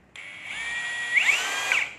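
A rotary hammer drill runs steadily from start to finish, loud and close, its whine swelling briefly in pitch near the middle and again toward the end.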